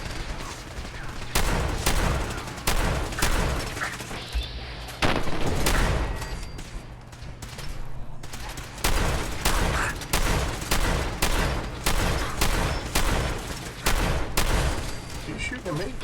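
Turret gunfire in a video game rattles in rapid, dense bursts nearly throughout, loud and close, with brief pauses between volleys.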